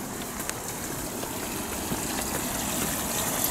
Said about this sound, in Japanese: ちょっと水の音が聞こえてきた。 あ、流れてる、流れてるといえば流れてる。